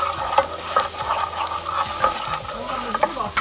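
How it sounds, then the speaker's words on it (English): A spoon stirs mushroom soup with garlic powder, salt and pepper cooking in a pot, giving soft scraping strokes over a steady low sizzle, close up and without speech. "Mix and let it cook."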